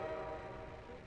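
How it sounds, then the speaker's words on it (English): A train noise sounds in Portal 2, a faint, steady horn-like tone with a low rumble beneath it, lasting about a second. "the train noise didn't start on me"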